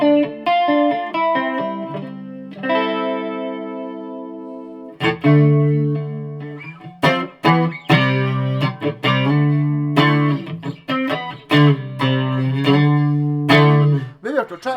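Electric guitar played through a chorus pedal with reverb, sustained chords then a run of strummed and picked notes, shimmering and spacious, loud and alone.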